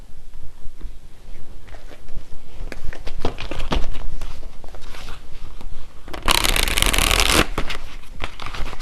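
A tarot card deck is shuffled close by in repeated bursts of papery riffling and rubbing, building to one dense, loud riffle near the end.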